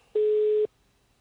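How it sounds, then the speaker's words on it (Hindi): A single telephone busy tone after a caller hangs up on a live phone-in segment: one steady electronic beep about half a second long, clear and isolated, followed by quiet line noise. "मोहनलाल जी ने फोन रख दिया शायद।"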